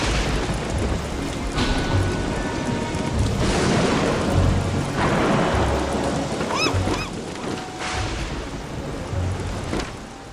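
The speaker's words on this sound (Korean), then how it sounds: "번개치죠? 큰일났네요." Thunder rolls during a lightning storm in the survival game Don't Starve Shipwrecked, loud rumbling crashes over steady rain, with several booming swells across the stretch and a brief chirping sound midway.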